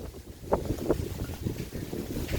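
Strong gusty wind blows outdoors as a storm approaches, rumbling steadily across the microphone with a few louder buffeting thumps and no talk.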